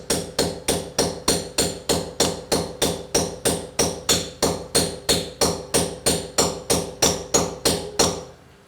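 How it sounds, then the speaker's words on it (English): About twenty evenly spaced hammer blows striking a plug into a wall, loud and close, in a steady rhythm with no talking. "You press it in and you hammer."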